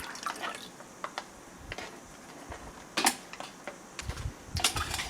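Small splashes and drips of dark liquid poured back into a metal canteen cup, a scattered run of short wet taps and trickles, close and fairly quiet, with no talk.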